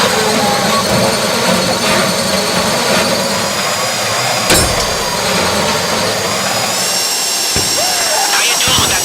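A drill boring into a box during a GTA Online heist, a loud, constant grinding whine with harsh metallic buzz, sustained throughout with a few sharp clanks and shifts in pitch near the end.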